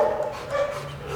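A dog at a pigeon racer's home gives a short, quiet whimpering bark-like vocalization, brief and soft with no talking over it.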